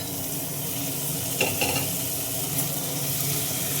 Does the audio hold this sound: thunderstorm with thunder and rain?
no